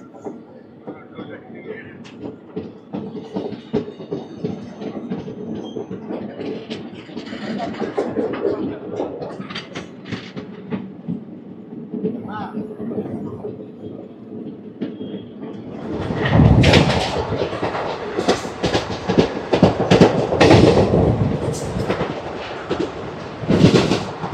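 Narasapur Express 17248 rumbles steadily along the rails for the whole stretch, then grows louder and harsher with clattering wheel noise near the end.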